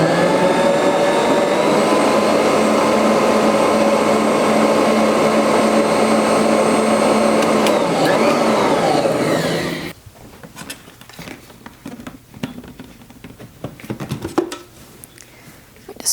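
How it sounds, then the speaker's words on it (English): A Bosch Universal Plus stand mixer cuts butter into dry pie crust ingredients, giving a loud, steady motor whir for about ten seconds before it stops; quieter scraping and handling noises follow. "I'm going to mix this. I'll do a number 1, then move up to number 2, just to incorporate the butter through our dry ingredients"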